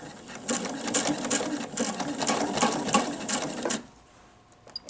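A home sewing machine stitches a fabric face mask in a rapid, rhythmic clatter for a few seconds, then stops, leaving faint quiet; close, with no talk.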